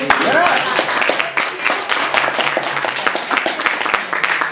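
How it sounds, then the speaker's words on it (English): An audience at a Bristol and Leicester beatbox and spoken word event claps in a dense patter of rapid, overlapping hand claps, fairly close and lively, with voices mixed into the applause. "That deserves another round of applause."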